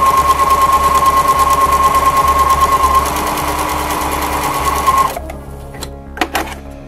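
A sewing machine runs steadily, stitching fabric for a Christmas stocking with a fast, even mechanical chatter and a close, loud motor whine. It stops after about five seconds, leaving a few faint clicks and handling sounds.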